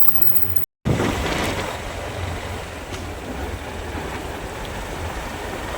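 A motorbike ride through monsoon countryside toward a waterfall near Chandranagar village in Dapoli, Konkan: a steady, loud broadband rumble of engine and wind rushing past, with a brief dropout to silence near the start.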